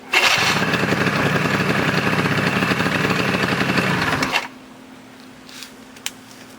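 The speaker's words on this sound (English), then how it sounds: "now you have to squeeze the brake in order to get the starter to work like you're supposed to" A Polaris Scrambler 90 ATV engine cranks and catches on the electric starter, running loud and steady for about four seconds before cutting off, leaving faint background noise with a small click near the end.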